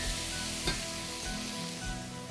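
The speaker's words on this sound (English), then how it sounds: "Cut up our peppers. So, gonna let those get nicely browned." Cut peppers browning in a pan give a continuous, moderately quiet sizzle with one brief clink early on, steady throughout with no voices.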